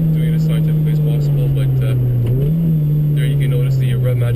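A car engine drones steadily from inside the cabin, with a brief rev blip mid-clip as a gear is downshifted, while someone talks over the constant hum.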